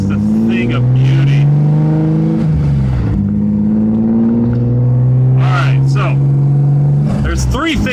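Car engine running on a standalone Speeduino or Megasquirt ECU, revving loudly and up close with sustained rising and falling engine tones, a brief dip mid-way, and a short burst of higher sound near the end.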